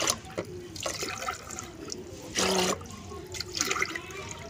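Water is poured from a glass into a pot while mixing organic liquid fertilizer for plants, heard as a few soft splashing bursts with one louder, fuller pour midway.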